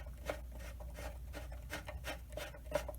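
A tightening knob being turned on a Masterforce 10-inch band saw, giving a series of soft, rhythmic rasping scrapes, close and fairly quiet over a low steady hum.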